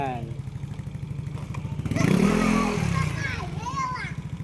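A Yamaha NMAX 155 V2 scooter engine runs with a steady, close putter, rising briefly louder midway, while children and an adult talk over it.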